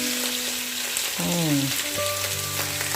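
Loud, steady sizzling and crackling of pounded garlic stir-frying in a hot wok, with a brief scrape of stirring midway and a faint tonal hum beneath.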